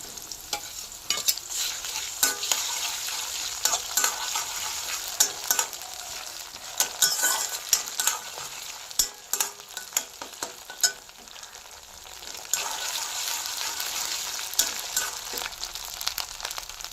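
Ginger paste frying in a pan for a vegetarian matar paneer dish, loud close sizzling broken by frequent sharp scrapes and clatters of the spoon as it is stirred steadily throughout.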